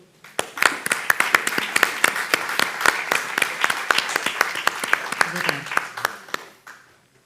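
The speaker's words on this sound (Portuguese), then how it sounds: "Uma salva de palmas, por favor." An audience claps in a steady burst of applause for several seconds, then the clapping thins out and fades.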